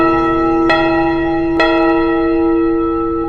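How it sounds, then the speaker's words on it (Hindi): Church tower bells ring loudly and close, with two clear strikes whose bright, sustained tones hum on and slowly decay. "अचानक चर्च टावर में घंटियां जोर से बजने लगी।"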